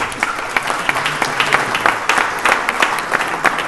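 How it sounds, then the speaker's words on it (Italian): A crowd claps steadily in sustained, loud applause that continues for the whole stretch. "la accogliamo con un bel applauso"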